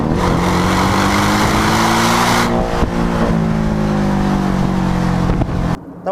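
A turbocharged 2017 Porsche 718 Cayman S engine accelerates hard and loud, its rising harmonic drone climbing steadily for several seconds before cutting off abruptly near the end.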